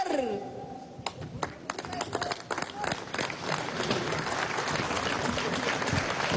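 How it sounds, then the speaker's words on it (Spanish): A crowd at an outdoor commemoration of the Bolivarian National Militia breaks into applause, starting with a few scattered claps and swelling into a broad, sustained ovation. "Fuerte los aplausos a nuestra milicia bolivariana, mujeres y hombres del pueblo."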